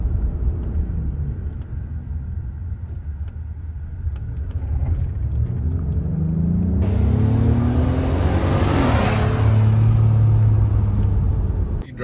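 A 2022 Acura MDX SUV drives along a road, giving a steady low rumble of engine and tire noise that swells as it accelerates, with a passing tonal sweep later on.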